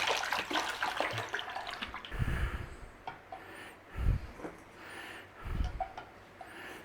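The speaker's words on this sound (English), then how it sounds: "So in there we want some water." Water runs from a tap into a pot for boiling eggs in a home kitchen, a soft splashing stream broken by a few louder gushes and clunks, fairly close and quiet.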